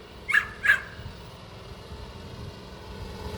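Dogs barking outdoors near a mini bike: two short, sharp barks close together, moderately loud, followed by a low steady background hum.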